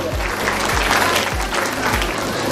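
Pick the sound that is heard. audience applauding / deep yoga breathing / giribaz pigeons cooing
audience applauding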